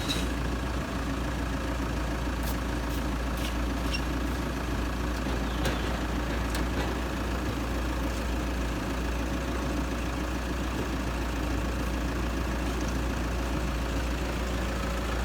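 A Toyota Fortuner 3.0 diesel engine idles steadily at low volume, a continuous even rumble with faint ticking and clatter over it.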